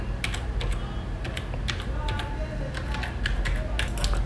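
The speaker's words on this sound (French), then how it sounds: "Je mets mon mot de passe." A password tapped out on a computer keyboard: a quick, uneven run of close key clicks over a steady low background hum, without pauses of any length.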